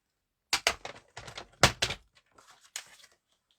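Card stock being cut down to size for handmade card making, a series of short crisp slicing and trimming strokes close by, several quick bursts with brief pauses between, no voices.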